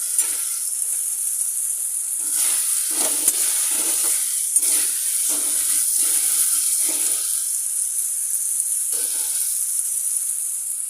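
Fried spice masala poured into a cooking pot of khichuri sizzles steadily, with intermittent scraping and stirring strokes over a constant hiss, close and alone with no talk.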